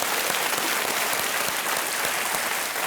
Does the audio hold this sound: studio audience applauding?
yes